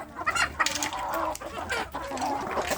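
Kampung chickens cluck in a steady run of short calls, fairly close and alone with no talk over them.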